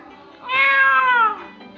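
A single drawn-out cat meow rises and falls over about a second, loud and close, heard within a Balinese folk tale being told aloud.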